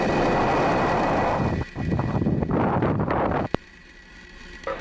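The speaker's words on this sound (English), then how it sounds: "Engine full power. And liftoff of Starlink 3-5." A SpaceX Falcon 9 rocket carrying Starlink satellites lifts off with a loud, broadband roar that rumbles continuously, drops briefly, returns, then fades to a lower distant rumble after a sharp crackle.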